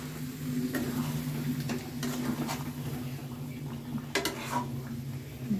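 Chicken feet curry with ginger paste is stirred in a pan, faint scattered scrapes and clinks of a spoon against metal over a low steady hum, quiet and close.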